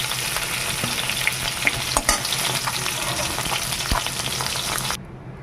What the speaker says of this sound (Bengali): সব মাছগুলো আমি ভেজে নেব